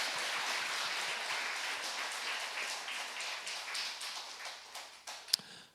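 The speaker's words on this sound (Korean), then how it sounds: "우리 다 같이 한번 큰 박수로 하나님께 영광의 박수를 드립니다" A church congregation claps together during a Sunday worship service, a steady wash of many hands that gradually thins and fades, ending with a single sharper tap.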